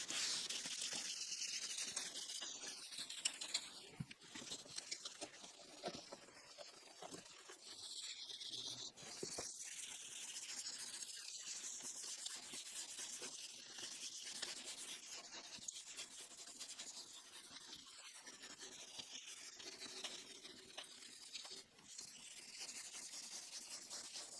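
Hand sanding of a Renault Clio plastic headlight lens with a QUIXX restoration kit: soft, continuous rubbing and scratchy strokes, faint and close, repeating steadily with no voices.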